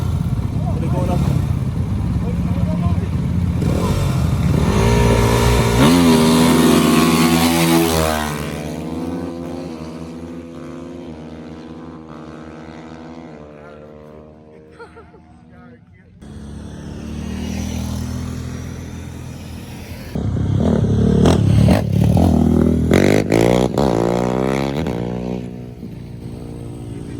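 Two dirt bikes, a Yamaha YZ450F and a Honda CRF450R, roar through a drag race at a rideout, engines revving hard and rising in pitch, fading into the distance, then a loud bike passes again close by, with people talking over it.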